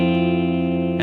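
Electric guitar driven through heavy overdrive distortion, a sustained chord ringing thick and buzzing with dense harmonics, loud and alone, with a fresh pick attack near the end.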